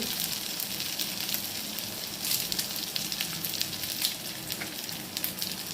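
Tempering spices with ginger and broken cashews splutter in hot oil, giving a close, continuous crackling sizzle dotted with sharp little pops, heard alone without any voices.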